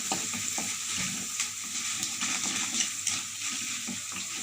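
Dried manathakkali (black nightshade) berries fry and sizzle in a pan for a kulambu, with steady crackling and repeated stirring scrapes throughout, close and fairly loud.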